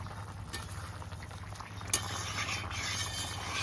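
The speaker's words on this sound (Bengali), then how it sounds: "টকবক টকবক করে ঝোল ফুটে উঠেছে" Silver carp fish curry gravy bubbles in a pot: a soft, continuous simmering fizz with faint pops, quiet and close, one slightly sharper pop near the middle.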